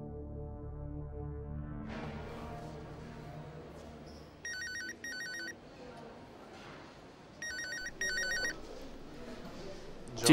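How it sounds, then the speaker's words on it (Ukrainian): A telephone rings in two short bursts of bright electronic trills, separated by a pause, over a quiet background. "Тітка Джанан дзвонить."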